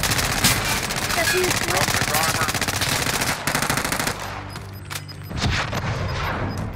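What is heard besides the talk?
machine gun fire in a video game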